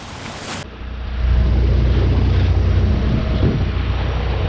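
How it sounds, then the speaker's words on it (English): A sailboat's inboard engine drones steadily while motor sailing off the coast of the UK in very light wind, a low continuous rumble that swells after a brief quieter start, with wind and water wash mixed in. "we've had to put the engine on for a while"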